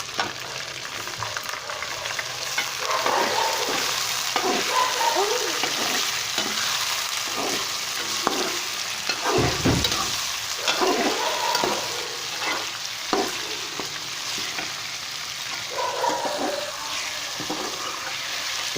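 Chicken sizzles and fries in ginger-garlic paste in a karahi, a steady loud crackle with repeated stirring scrapes and clatters throughout, no talking.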